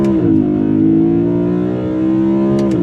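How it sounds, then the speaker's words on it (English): A BMW E92 M3 launches from a standstill at full throttle with tire spin, its engine held at high revs in a loud, close, steady drone that dips slightly and then climbs again near the end, with no talking. "pin the throttle, hold the revs, let go this. Some tire spin off the line"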